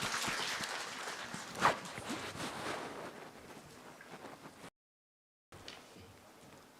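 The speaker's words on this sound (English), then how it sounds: "Kindly, let's clap for the Principal Secretary." Audience clapping at a contractors conference and construction awards launch, louder at the start with one sharp peak, then thinning to a softer patter, with a brief dropout to silence before it resumes faintly.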